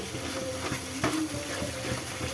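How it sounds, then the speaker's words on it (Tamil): Papaya halwa stirred in a kadai, producing a continuous thick bubbling and soft scraping with one slightly louder scrape midway, close up. "கிண்டிக்கிட்டே இருக்கலாம்"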